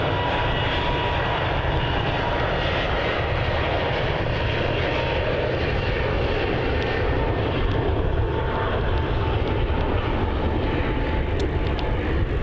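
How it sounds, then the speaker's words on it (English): A Singapore Airlines A380 on approach to Melbourne Airport produces a continuous, broad jet roar that stays steady and fairly loud throughout, without any speech. "And we've got the Singapore A380 on approach too."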